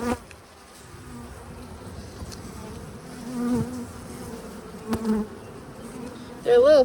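Honeybees buzz steadily around opened beehives, a dense drone of many wings close by, with a few louder passes near the end as individual bees fly past.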